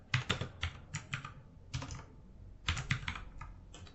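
Close, quiet keystrokes on a computer keyboard as a postcode is entered, a few quick clusters of taps separated by short pauses, with no voices.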